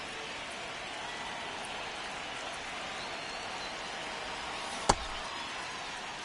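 Rain falls steadily on a baseball field in MLB The Show 26, a constant even hiss of moderate loudness with one brief sharp crack near the end.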